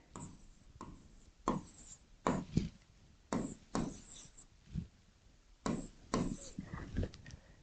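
Chalk or marker writing numbers on a classroom board, a series of sharp tapping and scratching strokes in irregular bursts, close and clear, with no talking.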